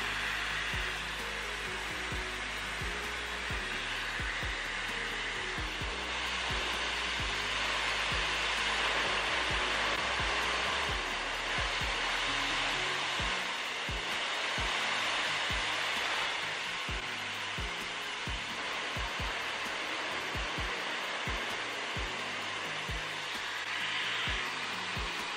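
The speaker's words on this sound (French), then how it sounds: "C'est là qu'on allume le sèche-cheveux." Steady whooshing roar of a hair dryer running continuously at a constant, fairly quiet level, with faint low handling thumps beneath.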